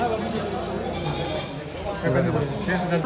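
Goats, including bucks of mixed sizes, bleating at a livestock market amid a busy crowd of voices, several overlapping calls, the loudest near the end.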